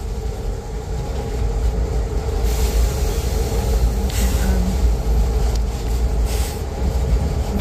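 A train stands at a busy station stop in Montenegro, its steady low rumble and hum filling the scene close by, with faint clanks and hisses rising over it and no talking.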